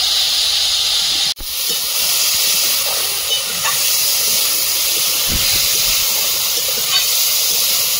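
Chow mein fries in oil with chopped onion and green chilli, giving off a loud, constant sizzling hiss. The sizzle is close and steady, with a brief dip early on and faint clatter beneath it.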